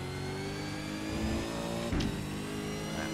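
A V8 Supercar engine in the iRacing video game at Laguna Seca pulls hard under acceleration, a steady, loud, buzzing drone with a brief shift-like break near the two-second mark, with no talk.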